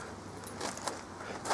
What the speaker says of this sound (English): just grab my key.